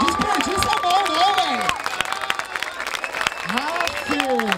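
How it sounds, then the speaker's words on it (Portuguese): A crowd claps and cheers at the grand final of a Brazilian street rap battle in Barueri, São Paulo, with an amplified host's voice talking over the applause. "mais palmas, família"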